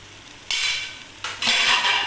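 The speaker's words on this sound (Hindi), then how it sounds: "सारा मसाला ऐड करके इसको थोड़ा भून लें" Masala and tomatoes for aloo kofta curry fry in a pan, with two loud bursts of sizzling and stirring, each holding for most of a second, close up and with no talking.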